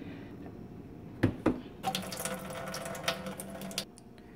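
A couple of knocks, then tap water runs steadily for about two seconds as soaked walnuts are rinsed in a sink, stopping abruptly.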